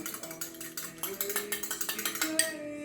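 A fork rapidly whisks egg substitute in a bowl for sweet potato bars, making fast, regular clinking taps against the dish, close and fairly clear.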